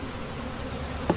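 Honey bees buzz steadily at a hive during drone-comb trapping for varroa control, a faint continuous hum with one brief louder buzz near the end.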